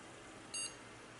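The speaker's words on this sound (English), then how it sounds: "We got a boot beep." A Craigslist desktop PC gives a single short, high electronic boot beep on startup, faint and clean over a low hum of fans.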